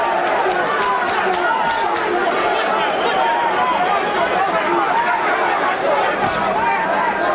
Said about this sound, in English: And the chants of Lewis from the crowd.